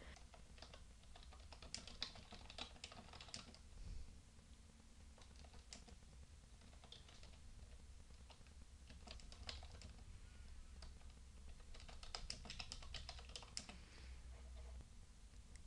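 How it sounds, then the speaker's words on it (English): Quiet typing on a computer keyboard, with irregular bursts of soft key clicks over a faint background hum and short pauses between runs. "by just typing directly into this template just like you would a word processor"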